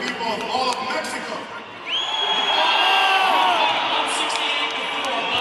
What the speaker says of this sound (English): You guys hear that crowd, how lively it is in here.